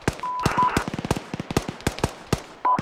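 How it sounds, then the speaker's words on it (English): Mortar rounds fire in Arma as a rapid series of sharp, loud booming thumps in irregular bursts, with brief radio beeps cutting in between shots and no speech. "friendly rounds outbound"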